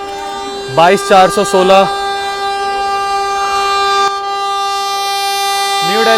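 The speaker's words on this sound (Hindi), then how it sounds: "पीछे से वंदे भारत आ रही है और आ चुकी है" A New Delhi–Varanasi Vande Bharat Express arrives and overtakes at Tundla, sounding a loud multi-tone horn in several short blasts, then again near the end over a steady rail hum, with a voice commenting.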